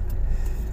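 Steady road traffic noise with a low, continuous rumble of passing cars, heard close and fairly loud with no talking.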